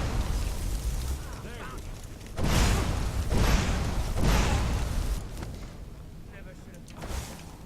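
Fireball explosions in The Elder Scrolls V: Skyrim, several heavy roaring bursts in quick succession that swell and fade, loud over a constant noisy game backdrop.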